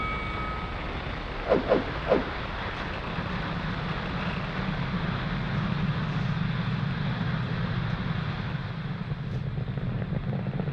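A SpaceX Falcon 9 lifts off from pad 40 carrying the Inmarsat I-6 F2 satellite, a distant, steady low roar with wind-like rumble that settles in after a couple of brief tones and holds constant.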